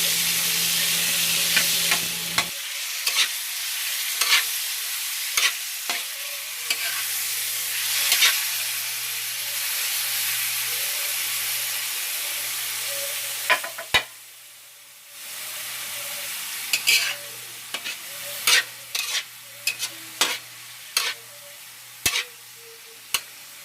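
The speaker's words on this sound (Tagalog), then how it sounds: "Kaya ang maprito ito ng kaunti hanggang maging brown lang. Halo-halo lang siya." Ingredients for Kapampangan-style pancit guisado sizzle steadily in a hot pan, with repeated scraping stirs and clatters breaking through the frying hiss at an irregular pace, close and fairly loud.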